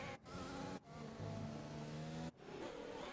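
An F1 race car engine with a mechanical issue in the F1 2020 video game hums and revs unevenly, its loud, steady note broken by two sudden cutouts.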